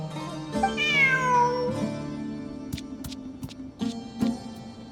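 A cat in the video game Genshin Impact gives one long, drawn-out meow that slides downward, heard close and clear, followed by soft game ambience and a few light clicks.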